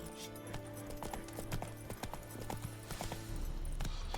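Roach, a horse in a video game, trots with quick, light hoof clops in a steady rhythm, fairly faint under background game sound.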